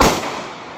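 A single sharp gunshot-like crack from army firing near a hospital at a medical college bursts loud and close, then trails off into a fading echo, with no talk.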